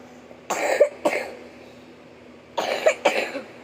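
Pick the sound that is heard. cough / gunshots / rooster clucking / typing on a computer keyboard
cough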